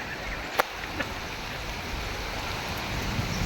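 Steady rain falling outdoors during a storm, a continuous broad wash of hiss with one or two faint knocks, no voices.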